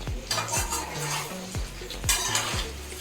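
Potato pieces being stirred with a utensil in a frying pan, giving repeated scraping clinks of metal against the pan every half second or so over a steady oil sizzle, close up, with no talking.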